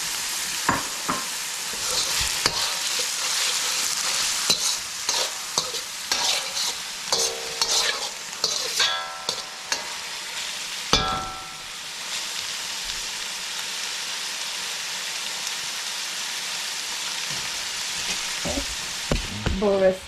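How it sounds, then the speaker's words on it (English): Long beans sautéing in green seasoning of peppers, scallions and onion sizzle steadily in a pan, with scraping stirs and clatters of a utensil through the first half, then a more even frying hiss. "Bora sauteing in green seasoning."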